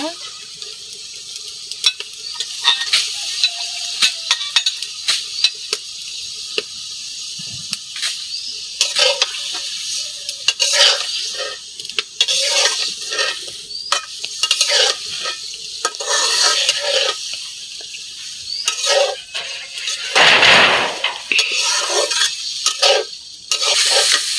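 Beef fat frying with spice paste in a pan, a loud, continuous sizzle broken by repeated scraping and stirring strokes and occasional clinks of a utensil against the pan, with a brief voice at one point.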